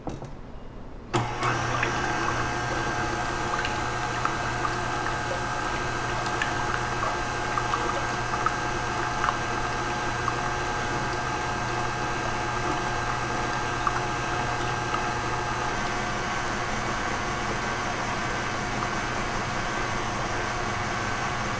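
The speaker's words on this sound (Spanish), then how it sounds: "Y ahora vamos a batir hasta que se mezclen bien todos los ingredientes." Vanilla flan ingredients, sugar included, are beaten together with a steady, loud machine whir. It kicks in after about a second and drones on evenly to the end, with no talking.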